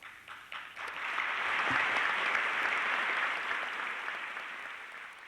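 Steady crowd applause, a dense wash of many hands clapping that swells early and holds at a loud level before easing slightly toward the end.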